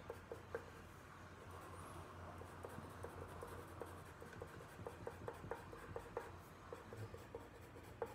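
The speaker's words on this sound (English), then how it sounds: "let me start drawing the long hairs in the body." Pencil strokes on paper while sketching a puppy's long body hair, a quiet close scratching made of many short repeated strokes in an irregular rhythm, with no talking.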